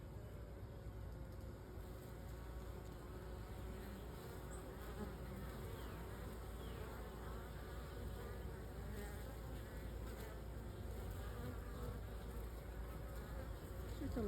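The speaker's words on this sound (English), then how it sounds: "It's just a lot of bees." A swarm of bees buzzes around a bucket swarm trap, a continuous, dense drone of many wings with individual bees zooming past, fairly faint and steady, with distant road traffic underneath.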